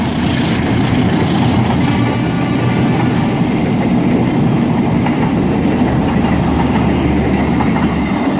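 A Bandung Raya commuter train rolls past close by, loud and steady, with a rumbling engine and rhythmic clattering of wheels over the rails throughout, near Kiaracondong, Indonesia.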